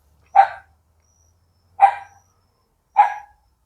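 A dog in Morretes, Brazil barks three times, single sharp barks spaced evenly about a second and a half apart, moderately close against otherwise near-silent surroundings.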